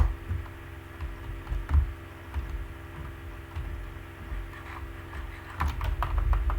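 Rapid clicking of keys on a computer keyboard, steady bursts of close tapping over a low background hum, with a denser flurry near the end.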